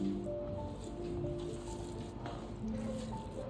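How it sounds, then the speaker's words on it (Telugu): Soft, wet squishing as hot rice is mixed by hand with mango pickle in a bowl, a continuous close-up mashing texture with a faint background hum. "ఒక్క ముద్ద వేడి వేడి అన్నం వేసుకొని చక్కగా ఈ గిన్నంతా ఊచుకొని మిక్స్ చేస్తున్నాను"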